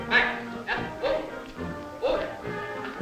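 Dogs at an obedience show's low hurdle event give several short barks in a rough rhythm, heard close over crowd noise and music-like tones.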